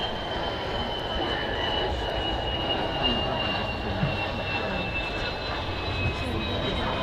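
An airliner lands at Manchester Airport, a steady broad engine roar with a faint high whine holding at a constant level throughout, heard from a distance with no voices.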